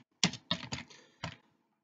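Short burst of keystrokes on a computer keyboard during Excel VBA work, four distinct clicks in an uneven rhythm, close and clear against silence.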